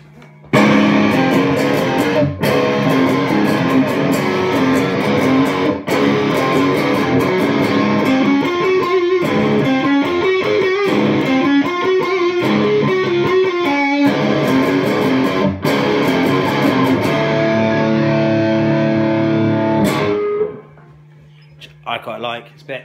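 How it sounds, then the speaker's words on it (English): Distorted electric guitar played through an amp, gritty sustained chords and notes ringing loudly for about twenty seconds before cutting off into quiet. "You're just hearing amp distortion, which is quite nice."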